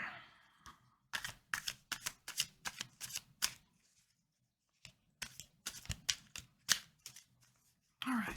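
Cards are riffled and shuffled in two runs of quick, crisp bursts, with a short pause between them. The sound is close and clear.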